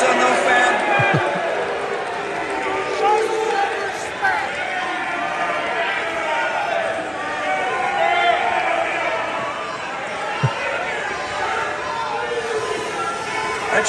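A live studio audience loudly boos someone, a dense sustained roar of jeering voices that carries throughout the stretch with only brief dips.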